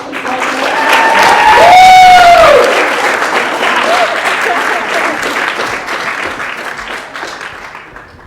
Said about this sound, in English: Let's give a round of applause and congratulations to our 2015